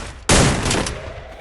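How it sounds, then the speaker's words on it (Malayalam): A sudden loud gunshot from Free Fire cracks close by, its blast ringing and fading over about a second. "ഇപ്പം ഹെഡ്ഷോട്ട് അടിക്കും"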